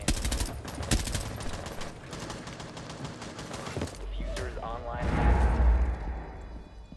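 Rapid automatic gunfire rattles loudly through the first seconds of a Rainbow Six Siege round, a dense string of shots that gives way to a deep rumbling impact and muffled voices talking.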